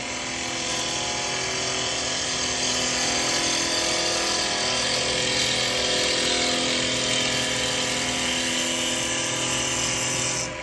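Woodturning gouge riding on its bevel as it cuts a spinning workpiece on a lathe, a steady continuous whirring hiss with motor hum, loud and close throughout without pause.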